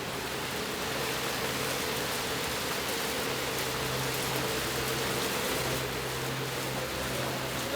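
Steady rain falls without a break, a dense even hiss that continues alone with no voices and a faint low hum beneath it.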